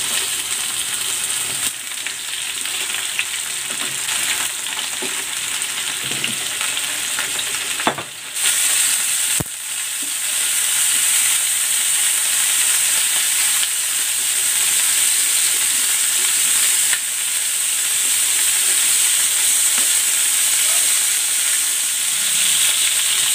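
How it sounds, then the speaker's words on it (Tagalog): Chicken searing in a pan of hot oil, a loud continuous sizzle and crackle throughout with occasional stirring scrapes and a couple of sharp knocks, no voices. "nagsalang na ako dito ng kawali na may mantika. Isi-sear ko muna itong chicken."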